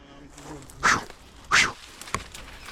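A big dog on a Jamaican farm barks twice, loud and close, with a softer yelp after; voices and background activity carry on around it.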